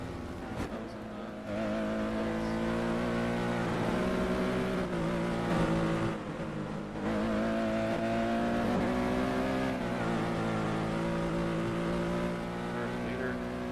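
Race cars, including the hypercar class, roar around Road America during a WEC race. The engine drone is continuous and loud, shifting in pitch as the cars accelerate and pass, with a commentator's voice talking over the noise.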